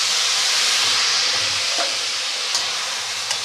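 Water sprinkled over ivy gourd frying in a pan sends up a loud, close, steady steamy hiss and sizzle that eases slightly, with a couple of faint clinks near the end.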